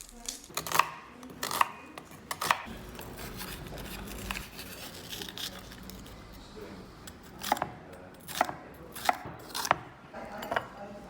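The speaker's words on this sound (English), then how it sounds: "So first up, I'm going to prep the veg." Cucumber, red peppers, cherry tomatoes and pineapple are chopped on a board with a knife, giving sharp single chops in two short bursts separated by a quieter stretch, close and clear.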